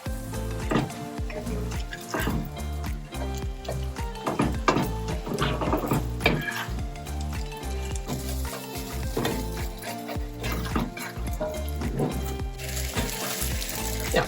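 Fried matzoh sizzles in butter in a hot pan, a loud, continuous crackle with dense popping spatters and a few soft knocks throughout.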